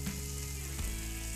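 Onions and carrots added to beef pieces in a pan for beef estouffade, a steady close sizzle with a soft stirring clunk partway through, no voices.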